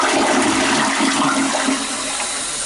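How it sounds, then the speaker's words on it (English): A household toilet being flushed after a repair for leaking and noise, a loud steady rush of water that runs throughout, close up with no talking. "Then I'm just going to flush the toilet here,"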